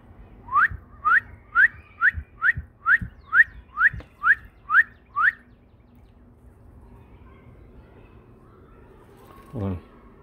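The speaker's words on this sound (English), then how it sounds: "Watch her going mental when I whistle." A person whistles to call a pet bird: about ten short rising whistles in a quick, even series, loud and close, followed by a brief low coo-like sound after a pause.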